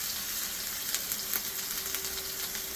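Garlic and ginger frying in hot oil for a chicken jalfrezi, a close, steady bright sizzle with small crackling pops throughout.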